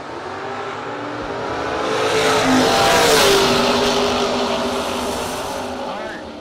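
A Chevrolet Monza drag car rumbles at the start line of a no-box open drag race, its engine swelling into a loud rev before easing back, heard fairly close over crowd and track ambience, with an announcer talking over it.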